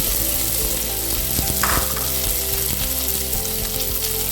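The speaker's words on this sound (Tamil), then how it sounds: "கடுகு பொரிஞ்சிருச்சு இப்போ நம்ம உருளைக்கிழங்கு இதில் போட்டுக்கலாம்" Oil in a pan with popped mustard seeds and potatoes for potato kolukattai crackles and sizzles loudly and steadily, with one brief stirring scrape in the middle.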